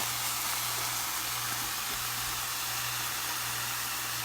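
Sea scallops searing in a hot pan on medium heat, making a steady, even sizzling hiss that holds unbroken throughout with no talking.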